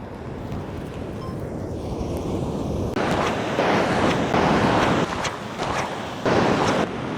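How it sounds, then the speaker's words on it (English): Small ocean waves wash onto a beach near high tide, rolling in as low, soft surges rather than crashing breakers, with gusts of wind buffeting the microphone throughout. "the wave power keeps decreasing and these waves aren't really breaking"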